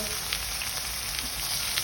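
Prawns frying in hot oil for a Bengali prawn bhuna, a steady close sizzle and crackle with faint popping throughout, no voices.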